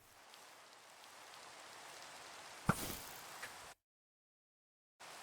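Steady rain in Minecraft hisses in a soft wash, broken by a brief sharp burst, then cuts to silence before resuming.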